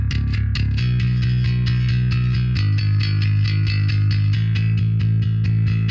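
A distorted bass guitar, processed through an STL Tones AmpHub amp simulator, plays a loud, driving riff of repeated low notes with sharp plucked attacks throughout.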